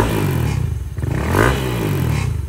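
A Honda Click 125 scooter with a four-valve engine revs in a repair shop, steady engine drone with a brief throttle rise in the middle, close and fairly loud, no talk.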